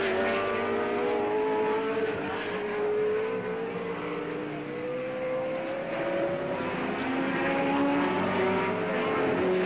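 A racing car engine, not a V12, screams steadily at high revs during the 1968 International 100 at Warwick Farm, a sustained loud whine that shifts gradually in pitch over about ten seconds, with no voices.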